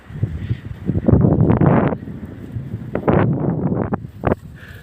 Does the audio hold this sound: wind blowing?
yes